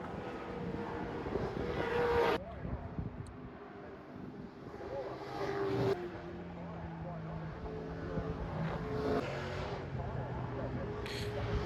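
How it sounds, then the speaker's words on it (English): Vintage race cars, among them Chrysler Chargers, Holden Monaros, Toranas, Porsche 911 RSs and Ford Capris, roar around Mount Panorama at Bathurst, a steady engine drone heard from a distance with surges as cars pass, while people talk over it. "It was really awesome to see these vintage race cars from yesteryear still in combat today."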